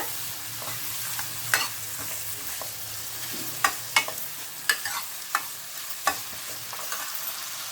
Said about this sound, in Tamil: இப்போ பாருங்கள் ஃப்ரெண்ட்ஸ் வெங்காயம் தக்காளி நல்லா வதங்கிடுச்சு